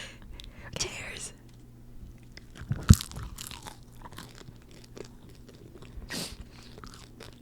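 Bites into a crunchy-sounding pastry, with scattered close crunches and soft chewing spread across a quiet, whispery setting; one sharp crisp bite stands out near the middle.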